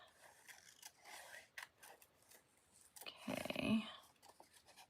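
Scissors cutting a stamped paper mask for a Christmas card craft, with quiet snipping and rustling of the paper, close and faint, ending in one slightly longer, louder cut.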